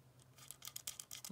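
Screws being tightened by hand on a lightsaber hilt at the emitter end, heard as a run of small, close metallic clicks and scrapes ending in a louder bump.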